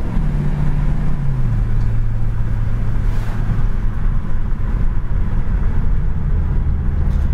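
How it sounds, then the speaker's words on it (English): A red 1966 Ford Mustang GT with an automatic transmission, its engine droning steadily and loud up close, the low tone stepping down in pitch partway through as the gearbox kicks down. No one speaks. "The kickdown does work on the tranny."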